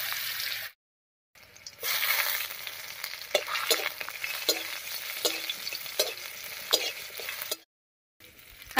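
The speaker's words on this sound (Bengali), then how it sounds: "এবার এর মধ্যে দেবো থেতো করা রসুন আর কাঁচা লঙ্কা।" Crushed garlic and green chillies hit hot oil already frying nigella seeds and dried chillies, giving a close, continuous sizzle with stirring scrapes, framed by brief silent gaps at the start and end.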